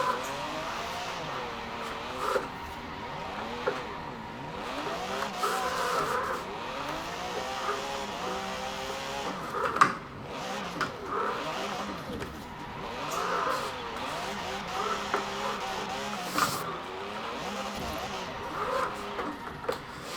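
An Aston Martin Superleggera with a drift build in Forza Horizon 4 runs continuously, its engine note rising and falling with revving and tire squeal as it slides, while someone talks over it throughout.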